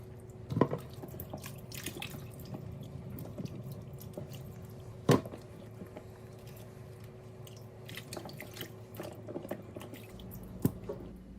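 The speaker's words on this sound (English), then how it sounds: "And also sometimes I like goat meat, so I'm rinsing it right now." Tap water runs and drips while goat meat is rinsed under it in a kitchen sink, a steady low wash broken by a few sharp splashes and clinks, close and alone.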